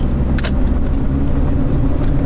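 Car accelerating up an on-ramp onto the interstate, a loud low engine rumble and road roar filling the cabin with a couple of brief brighter rattles.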